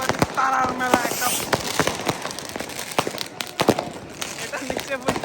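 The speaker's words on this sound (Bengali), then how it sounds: "চারপাশে এই আতশবাজির তারার মেলা একটা।" German New Year's Eve fireworks crack and pop at varying distances, scattered sharp bangs and whistles over crowd noise, with a nearby voice talking.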